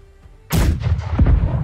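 Ship cannons fire a heavy broadside from the port side in Blackwake, a sudden loud boom after near silence, followed by a few more rumbling blasts close together.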